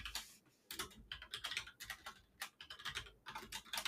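A PowerShell write-host command is typed on a computer keyboard, a quick, steady patter of close, soft key taps with short pauses, no voices.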